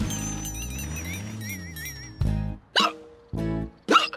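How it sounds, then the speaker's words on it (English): Repeated cartoon hiccups from an animated fire engine character, four sharp separate bursts spaced about a second apart following a stretch of whistling, warbling music, each hiccup loud and close. "I still got the hiccups"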